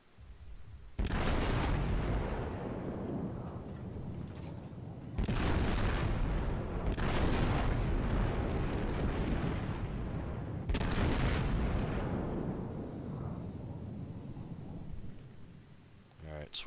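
Heavy naval gunfire in World of Warships near a South Carolina battleship: three loud booming salvos, each a broad rumbling blast that rolls on for a few seconds, with no talk over them.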